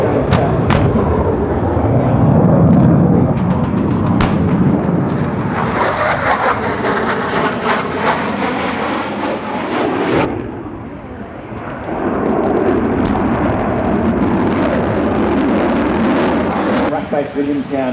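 Military jets at the Avalon Australian International Airshow, a loud continuous engine roar that swells and surges over about eighteen seconds, with booming passes and broadband rumble, heard close and dominant.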